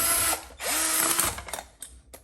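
Power driver sinking a screw into a Kreg pocket hole, a brief whirring burst with a rising motor pitch, then quieter clicks and handling noise.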